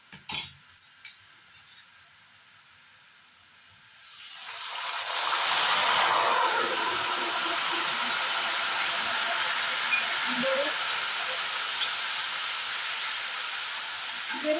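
Banana chips frying in hot oil for an Onam sadya: a quiet start with a few taps, then salt water is added and a loud, close, steady hiss of boiling, sputtering oil swells and persists.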